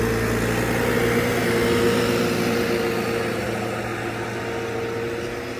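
A tractor engine idles continuously at close range in a potato field, ready to pull a Lemken 3MB plough; a steady droning hum with no voices, fading slightly toward the end.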